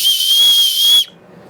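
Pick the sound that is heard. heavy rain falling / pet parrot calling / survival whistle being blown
survival whistle being blown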